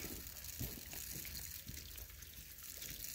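Water sprays and trickles steadily from a leaking garden hose while cabbage is watered outdoors, a soft continuous hiss with faint splashing close by and no talk.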